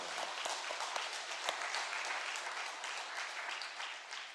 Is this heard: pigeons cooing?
no